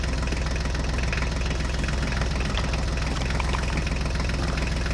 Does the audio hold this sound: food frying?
no